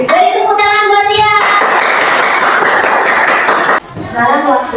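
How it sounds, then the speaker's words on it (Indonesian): Children in a classroom clap together for a pupil, a dense burst of claps lasting several seconds, with young voices calling out before and after. "Beri tepuk tangan buat dia"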